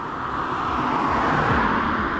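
Steady road traffic streams past on a city street beside a river, a continuous loud wash of car and motor noise with vehicles blending together, heard up close from the sidewalk.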